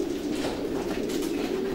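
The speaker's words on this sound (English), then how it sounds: "This big, strong, powerful pigeon like the King of Diamonds." Racing pigeons in a stud loft give a steady, low cooing that runs continuously throughout, moderately close with a soft, airy background.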